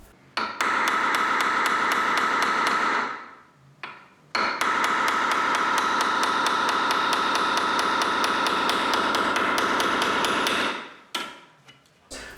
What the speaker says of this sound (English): tapping yourself straight into the nut to make a divot, a little dent